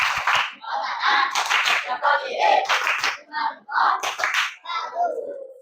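Children in a classroom clapping in a chant-like rhythmic pattern for a classmate, sharp bursts of hand claps in uneven groups, close and fairly loud, mixed with young voices.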